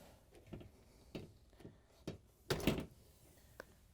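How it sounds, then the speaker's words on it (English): Bosch dishwasher door lifted and closed during a drain pump repair, quiet, close clicks and dull thunks with one heavier rattling knock near the end. "we're going to kind of hold the door together and lift it up and close it"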